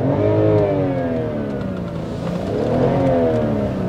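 A BMW 523i with a naturally aspirated engine revs hard, the pitch climbing and falling and then climbing again in smooth sweeps, loud and close, with no voices.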